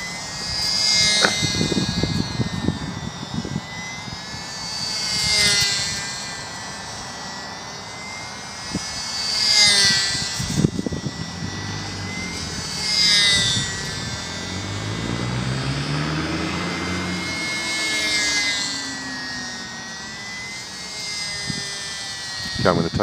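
A SBACH 342 model airplane flying over a small park in calm conditions, its whining propeller motor rising and falling as it passes near and far again and again, with a voice talking at times.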